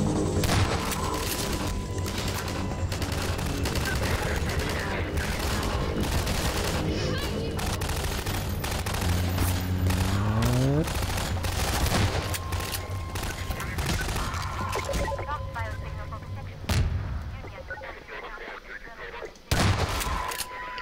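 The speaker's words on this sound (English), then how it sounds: "Shotgun's so fucking satisfying to use." A shotgun fires again and again in Half-Life 2 during a long, loud firefight, its heavy blasts arriving in bursts among other gunfire and mechanical clatter, with someone talking over the action.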